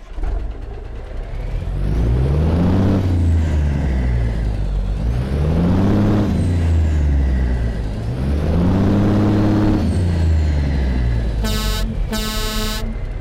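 A Kenworth T600 truck's big diesel engine in American Truck Simulator cranks and rumbles with rising and falling revs, loud and close, followed near the end by two short blasts of an air horn.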